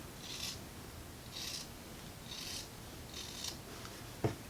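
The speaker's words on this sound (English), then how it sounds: "So now I can take my Tim Holtz snips and just cut right in between those" Tim Holtz snips cutting quilting fabric, four crisp evenly spaced snips about a second apart, close and fairly quiet, followed by a brief tap.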